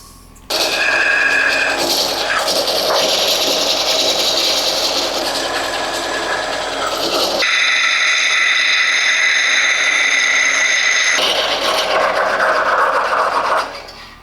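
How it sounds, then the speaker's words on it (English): A power drill whines steadily at close range, its pitch shifting as it bites into metal frame supports for a 500cc two-stroke motorcycle, running almost continuously for several seconds before stopping. "let's drill some holes"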